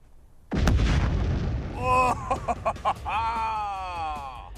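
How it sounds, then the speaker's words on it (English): A television blown apart with explosives gives a sudden loud blast that booms and rumbles, followed by scattered pops and crackles of debris and a faint tonal ringing as it fades. "demonstrating a high-speed camera by blowing up a TV"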